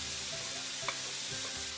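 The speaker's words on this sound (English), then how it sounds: "Just start the apples and the onions cooking a little bit before adding the mushrooms" Apple and onion slices cooking in a pan, a quiet even sizzle with a single brief clink partway through, no voices.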